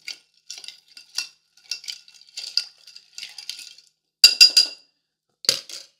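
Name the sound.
stirring an old fashioned cocktail with ice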